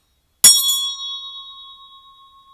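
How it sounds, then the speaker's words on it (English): A single bright bell strike rings out sharply after a brief silence, its clear metallic tone decaying slowly and shimmering for about two seconds. "let me go ahead and ring my bell"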